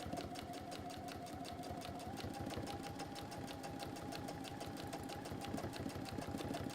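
A sewing machine runs a seam in one steady rapid stitching rhythm, close and continuous, with no voice over it.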